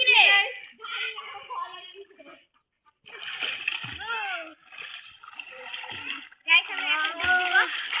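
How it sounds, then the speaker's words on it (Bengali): A child splashes and dives in a village pond, with bursts of splashing water in several bouts as children and adults talk and call out close by. "দেখেন মারিয়া ডুব দিতেছে কিভাবে।"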